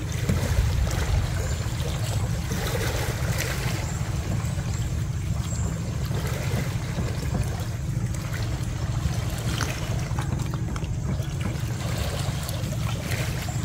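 Steady low rumble of passing fishing-boat engines nearby, with water sloshing and churning throughout, no voices.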